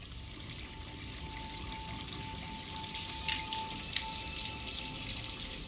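Steady running water, like a tap left on, in the Sapienza level of Hitman Freelancer, a soft continuous trickle holding at a constant level with a slight swell near the end.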